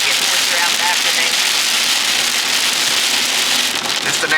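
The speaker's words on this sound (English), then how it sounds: "So rain's picking up now." Rain falls steadily and heavily on an autumn day in the mountains of western North Carolina and eastern Tennessee, a dense even hiss that stays loud and constant throughout.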